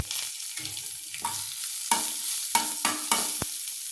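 Cumin seeds and dried curry leaves fry in hot oil in a pan, giving a bright, continuous sizzle broken by several sharp scraping stirs.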